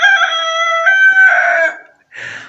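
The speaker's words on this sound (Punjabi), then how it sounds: "ਮੁਰਗੇ ਸਵੇਰ ਵਾਸਤੇ ਉੱਠ ਗਏ ਆ" A rooster crows close by at night, one long drawn-out call with a rising, stepped tone that fades out, followed by a brief softer call at the end.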